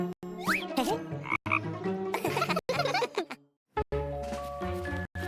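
A frog croaks repeatedly in close, loud bursts, with giggly, cartoonish vocal sounds mixed in and brief silent gaps.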